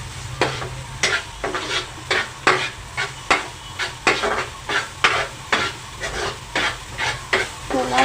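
Cauliflower and potato with tomato are stirred in a frying pan over high heat, a steady sizzle broken by regular scraping strokes of a spoon, roughly two per second, close and clear with no talking.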